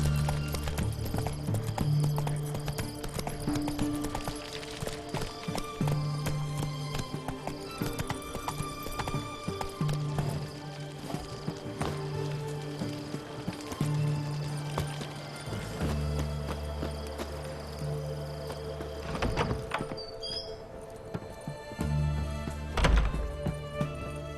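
Roach, Geralt's horse in The Witcher 3: Hearts of Stone, gallops in a steady rhythmic clip-clop of hooves that continues throughout, with occasional heavier thuds and a snort or whinny over ambient game sound.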